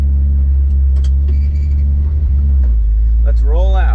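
A 1955 Chevy engine idles with a loud, deep, steady rumble close by, its pitch dropping slightly partway through, while a person talks over it.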